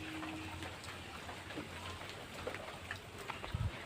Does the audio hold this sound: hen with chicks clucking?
no